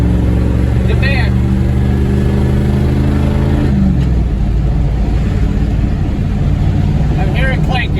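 A 1989 car on its first drive with a drive shaft fault, its engine droning loud and close as it accelerates through a gear change, with a faint clank among the engine noise and a voice talking over it.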